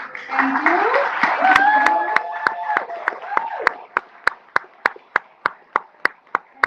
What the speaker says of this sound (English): We're going to give a round of applause